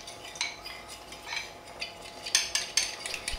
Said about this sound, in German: da geben wir die Stärke in diese Schüssel mit der Milch hinein und rühren das Ganze gut durch